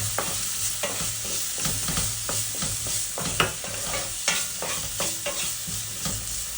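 Spoon stirring salt, black pepper, dried thyme and curry powder in a pan for Nigerian fried rice, with repeated scraping strokes over a steady close sizzle.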